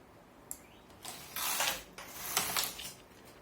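A knitting machine carriage is pushed back and forth across the rows, giving a few quiet mechanical passes of clicking, ratcheting and sliding swishes with short pauses between them.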